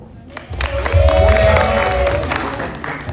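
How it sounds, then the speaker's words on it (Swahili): A church congregation claps during a Swahili sermon, a burst of overlapping applause mixed with a sustained voice and crowd murmur. "Mpigie makofi."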